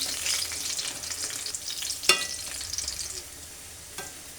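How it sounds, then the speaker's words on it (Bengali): Prawn fritters sizzle steadily in hot oil over medium heat, with a sharp clatter near the middle as a fritter is flipped to its other side, then a softer, settling crackle. "বড়ার এক পাশ হয়ে গেছে এখন আমি আরেক পাশে দিয়ে ভেজে নেব"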